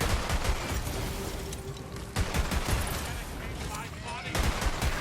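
Rapid gunfire from weapons in the fantasy shooter Tiny Tina's Wonderlands, dense overlapping shots and bursts running throughout, with a voice talking over the action.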